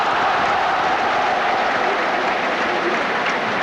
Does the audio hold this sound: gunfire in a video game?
no